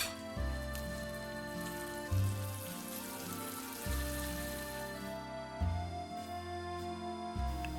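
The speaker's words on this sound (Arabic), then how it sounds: "لازم استمر بالتحريك السريع لحتى تمتزج الزبدة بالسكر المتكرمل" Butter sizzles as it is stirred quickly into caramelized sugar in a pan for a caramel apple cake, a soft continuous crackle alongside a low, rhythmic pulsing hum.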